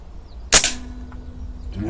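A single sharp, close crack from an AP 900 air gun firing a Barracuda 15 pellet, followed by a brief fading ring and quiet background.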